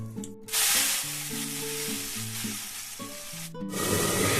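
Tomatoes sizzle and fry loudly in a hot pan for a tomato posto and cauliflower curry, with a steady crackle throughout and a burst of hissing as they hit the oil, while soft background music plays underneath.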